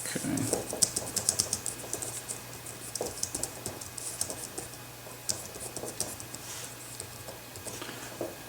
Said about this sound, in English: I'm just going to do a quick typing test here.